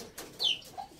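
A pet dove or pigeon gives a single soft coo, faint and close, in a quiet room with no speech.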